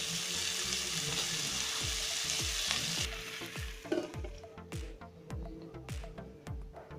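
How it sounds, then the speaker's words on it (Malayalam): Okra stir-fry sizzles loudly in a pan while a spoon stirs it in regular scraping strokes. The frying hiss eases after a few seconds, leaving the rhythmic stirring clearer. "നന്നായിട്ടൊന്ന് ഇളക്കിയിട്ട് ഇത് മൂടി വെച്ച് കൊടുക്കാം."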